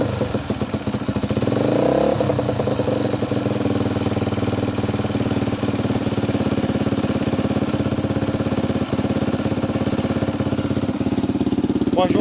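A Honda XLS 125 motorcycle engine idles steadily and loudly at close range after being started, with a low, even thumping that holds throughout and no talking.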